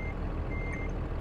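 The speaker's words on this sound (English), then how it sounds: "There's a forklift somewhere." Forklift reversing alarm in a truck-driving video game, a faint repeated beep sounding over a steady engine rumble.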